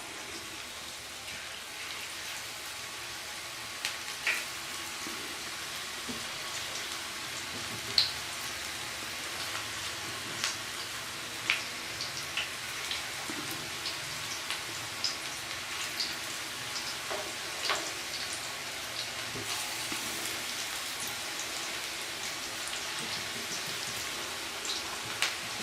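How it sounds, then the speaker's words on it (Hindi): Eggplant pakoras deep frying in hot oil, a steady dense crackle and bubble like rain that carries on throughout, with small pops scattered over it as more fritters drop in. "अब इसी तरह फिर मैं हाथ की मदद से छोटे छोटे इसमें पकौड़े डालती जाऊंगी।"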